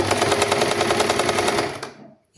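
A sewing machine stitches fabric during a tailoring class for a chudithar or frock, a fast even mechanical chatter, close and loud, that stops abruptly near the end.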